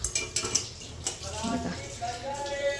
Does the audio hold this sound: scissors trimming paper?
no